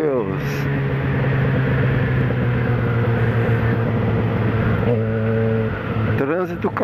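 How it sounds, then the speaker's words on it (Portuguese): Dense road traffic jammed around a Yamaha XJ6 motorcycle, with engines droning and rumbling steadily close by, vehicles passing, and a shift in engine pitch near the end, all continuous and loud. "Trânsito caótico."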